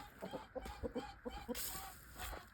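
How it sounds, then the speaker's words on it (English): A rooster clucks softly in a series of short, quick notes, followed by rustling, with the bird sounding close but quiet. "I'll show him our gentleman rooster."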